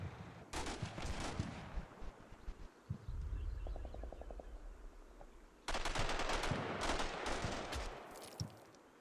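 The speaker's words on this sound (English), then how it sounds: "Bit of heavy machine gun fire to the face there." Bursts of heavy machine gun fire from a BRDM armored car rattle in rapid strings inside a video game battle, loud and dense, with a brief gap of rumbling before a fresh, harsher volley erupts.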